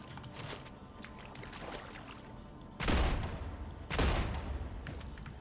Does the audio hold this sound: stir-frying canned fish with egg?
no